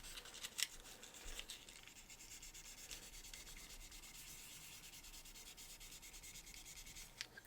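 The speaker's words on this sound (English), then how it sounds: "Gonna see if those will sand out, hopefully. Pretty sure I got it taken care of with the 800 grit." Pitted paint on a car roof is hand-sanded with 800 grit sandpaper, giving a steady, close, quiet scratchy rubbing with a few sharper scuffs at the start and end.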